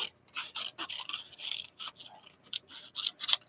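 Scissors cut paper to trim out bingo cards, a rapid series of dry, crisp snips and rasping slices, close and fairly loud, with short pauses between bursts and no talking.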